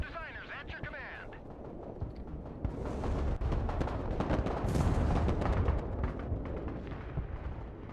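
Artillery fire in the video game Broken Arrow, a dense rumbling barrage of booms and blasts that builds from a quieter start into sustained, loud bombardment.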